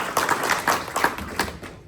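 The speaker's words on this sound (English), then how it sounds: "So grab a round of applause for y'all." Scattered, sparse clapping from a small symposium audience, a handful of distinct claps in an uneven rhythm rather than a full ovation, brief and moderately loud.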